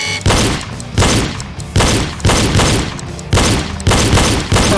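Pistol shots crack out during a reload drill, nine loud sharp reports in a steady evenly spaced rhythm, each followed by a short decaying echo, close and alone.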